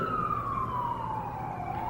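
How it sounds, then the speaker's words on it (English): An ambulance siren wails by, a loud sweeping tone gliding steadily downward as the vehicle passes, over a rumbling backdrop of traffic. "Somebody going by, let us know that this ambulance is going wherever they're going"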